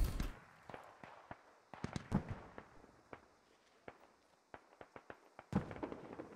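Sharp, distant gunshots ring out in a tactical military shooter, scattered single cracks and short bursts at irregular intervals, fairly faint against a quiet background.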